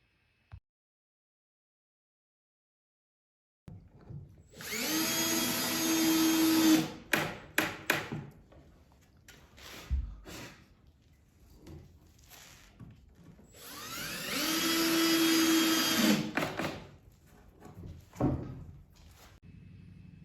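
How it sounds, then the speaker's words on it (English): A power drill whirs in two sustained bursts, drilling a hole and driving screws into a cabinet, each followed by short clicks and clatters of handling, with a quiet pause at the start. "I'll drill the hole and drive a couple screws and be good to go"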